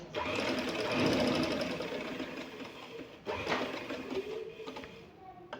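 A sewing machine runs steadily while stitching a trouser seam, with a short pause midway before it starts up again close by.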